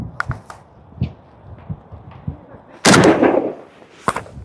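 A single loud gunshot at a shooting club in Skardu, fired after a few faint thumps and soft movement sounds, with a brief echoing tail.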